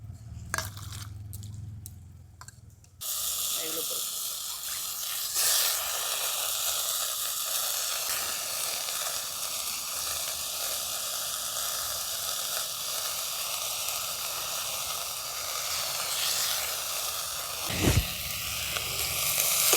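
Drumstick flowers tipped into a pan of frying mixed vegetables, starting with a few soft knocks and then breaking into a loud, steady sizzle and hiss that fills the rest of the clip, with no one talking.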